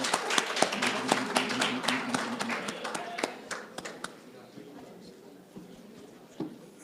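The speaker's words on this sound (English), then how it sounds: "Let's give them a big round of applause." A modest crowd at a justice of the peace swearing-in ceremony for a Belize California chapter gives a round of clapping, sharp individual claps thinning out over several seconds, with low voices murmuring underneath.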